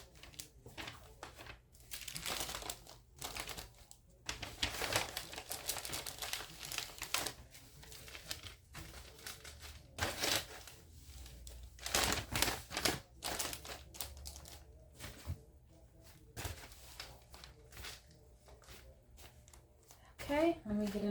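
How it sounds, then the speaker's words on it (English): Sheets of parchment paper are handled and crinkled during a sublimation and rhinestone craft project, giving irregular crisp rustling bursts close by, with a person talking at times. "let me get another piece of parchment paper for the top"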